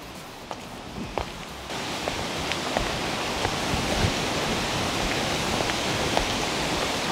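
Jibhi waterfall in a Himachal Pradesh forest, a steady broadband rush of falling water that stays continuous and fairly loud throughout, with a few faint knocks near the start.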